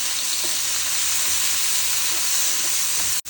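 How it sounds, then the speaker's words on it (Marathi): Tomatoes sauté in a pan for masala vegetable Maggi, giving a steady, close, loud hiss and crackle that runs unbroken and cuts off abruptly at the end, with no voices. "आपण टमाटो घालतो टमाटो पण आपण परतून घेऊ"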